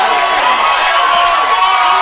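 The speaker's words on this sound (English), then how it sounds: "the Dover fans are on their feet cheering for out number 3" Dover fans roar and cheer continuously from the stands at a high school softball state semifinal, a dense, loud crowd wash throughout.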